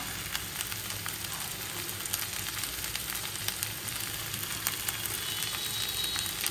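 Ghee and garam masala sizzle steadily in a hot pan while cooking thor ghonto, a dense continuous crackling hiss close up with no talking over it.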